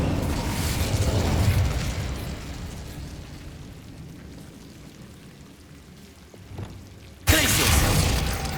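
Incendio fire spell cast in Hogwarts Legacy, a roaring whoosh of flame that slowly fades to a low hiss and then bursts back loudly near the end, with no voices.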